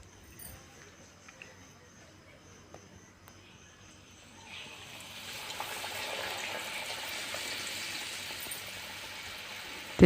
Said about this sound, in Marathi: येथे बेसनच्या मिश्रणात एक एक वडे टाकून कड़े तळून घेऊत